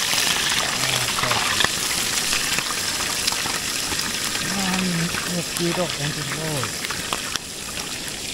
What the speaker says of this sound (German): Gleich wird Thunfisch gebraten mit Paprika und Zwiebel